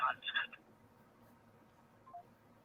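Touch-tone telephone keypad tones, a quick cluster of bright dialing beeps at the start followed by a faint single tone later, over low background hum.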